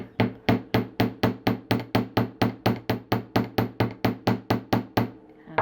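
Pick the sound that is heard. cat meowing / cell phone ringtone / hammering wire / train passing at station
hammering wire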